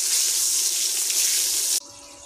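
Eggplant frying in hot oil seasoned with salt and turmeric gives a loud, steady sizzle that cuts off sharply near the end and leaves a quieter background.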